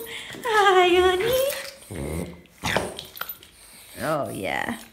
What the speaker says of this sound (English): Any other small breed dog that does this?